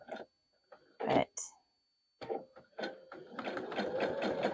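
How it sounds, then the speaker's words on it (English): A sewing machine stitches quilt pieces, starting with short separate bursts and pauses, then settling into a continuous, moderately loud run near the end. "Of course, I'm going to be sewing onto it a little bit,"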